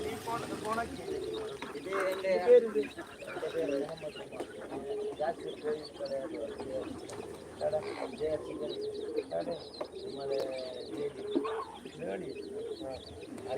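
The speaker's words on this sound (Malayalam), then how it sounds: "താറാവ് കുട്ടങ്ങൾ വന്നു" Ducklings peep and call in a backyard flock among other poultry and birds, the chirps steady and fairly close, mixed with cooing, with voices talking over them throughout.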